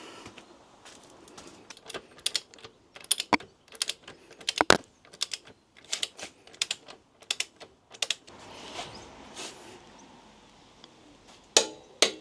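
Tightening a nut onto a motorcycle swing arm bolt on an Africa Twin build: a run of sharp metallic ratchet clicks and taps in irregular bursts, close and crisp over quiet workshop background.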